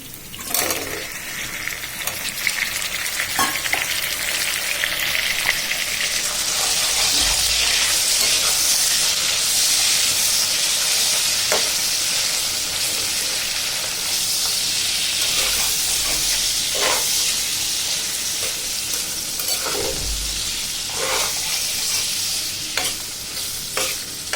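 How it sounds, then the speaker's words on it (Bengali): Sliced eggplant frying in hot oil in a pan that already held fried fish, onion and garlic: a continuous loud sizzle and hiss with occasional stirring clicks and scrapes, no voices. "এখনো কোনো মশলা দিইনি, কারণ হচ্ছে তেলে ভেজে নিচ্ছি"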